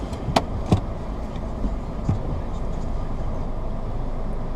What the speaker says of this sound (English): First drive in the brand new BRZ TS 2018